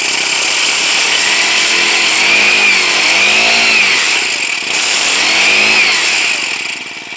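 A small four-stroke engine on an automatic motorized bicycle runs loud and close, a steady buzzing drone that rises and falls with throttle blips before fading at the end.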